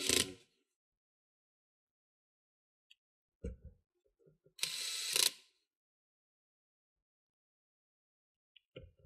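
Screws are driven into the panel of an HP G42 laptop during reassembly, with a few short ratcheting mechanical bursts separated by long silences, one longer bright burst near the middle, close and fairly loud.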